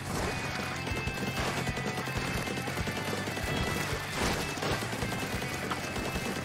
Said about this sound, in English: I didn't realize they're being bombarded with bombs